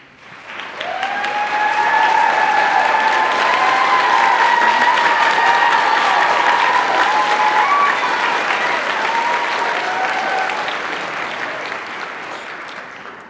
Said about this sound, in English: if they would stand, we would like to recognize them with a round of applause